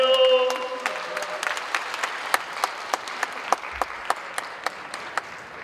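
An audience at a March 1st Movement church prayer meeting claps, a brief shouted voice at the start giving way to steady applause that thins to scattered, rhythmic claps in a reverberant hall.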